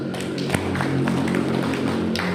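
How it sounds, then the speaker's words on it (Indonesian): A crowd at a community coordination meeting in Sukorejo, Indonesia, bursts into steady applause, with dense overlapping claps and a few sharper hand strikes carrying on evenly without pause. "Tepuk tangan untuk kita semua."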